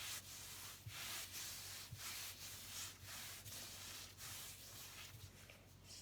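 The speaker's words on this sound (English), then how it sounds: "Back and forth, rolling back and forth motion." Sourdough baguette dough is rolled back and forth on a floured surface, making soft, rhythmic rubbing swishes about once a second, close and quiet.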